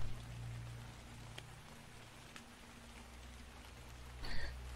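Rain falls in the survival video game Cataclysm DDA as a soft, steady patter with a low ambient hum underneath, a couple of faint ticks, and a brief brighter burst near the end.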